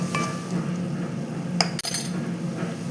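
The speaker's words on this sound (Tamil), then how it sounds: "வெங்காயம் தக்காளி எல்லாம் வதங்கிட்டுருக்கு" Onion and tomato soften in a pan for a coconut and mango chicken gravy, heard as a soft frying hiss with a couple of metallic spoon clinks and scrapes against the pan, close and brief.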